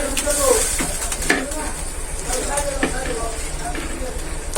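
Chicken pieces drop into hot spice masala in a pan, giving a close crackling sizzle with clattering utensil knocks and scrapes, while a voice talks over part of it.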